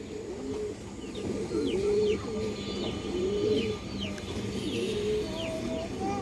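Full ring-eyed pigeons at a breeding farm coo repeatedly in soft, rolling phrases over a steady background hum, with no one speaking.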